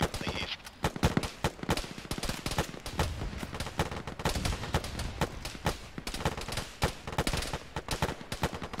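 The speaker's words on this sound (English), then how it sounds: "Infantry firing from the east" Heavy infantry gunfire in a military video game firefight, dense rapid bursts of automatic and single shots cracking continuously and loudly, with scattered voices underneath.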